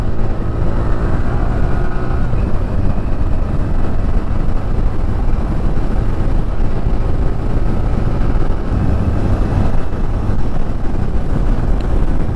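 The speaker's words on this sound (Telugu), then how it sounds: "యాక్సిలేటర్ మొత్తం ఇచ్చేసినా సరే చాలా స్మూత్గా ఉంది ఇంజిన్." An air-cooled, two-valve motorcycle engine of about 8.1 PS and 8.7 Nm pulls steadily at full throttle while riding, a continuous drone blended with heavy wind rush across the microphone.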